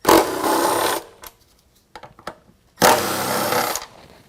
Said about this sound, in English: pull both of those bolts out using a 12 millimeter